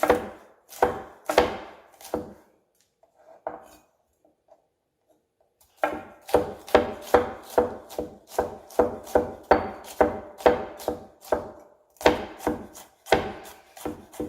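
Knife chopping a jalapeno on a cutting board: quick runs of sharp, close blade strikes against the board, a pause with a few faint taps, then a steady rhythmic series of chops.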